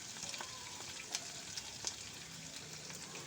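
Potatoes and onions frying in a pan give a soft, steady sizzle with faint crackles and a few small pops, close and quiet, with no talking.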